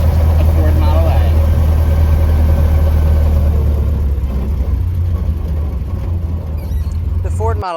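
A 1930 Ford Model A engine pulls uphill in second gear, a loud steady low drone with a mid-range mechanical hum that holds for the whole clip and eases slightly toward the end, close by, with a voice speaking over it.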